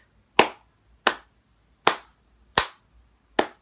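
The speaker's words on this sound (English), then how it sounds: "I'm clapping because this franchise is awesome." Five single hand claps, sharp and close, evenly spaced about three quarters of a second apart, each decaying quickly into near silence with no talk.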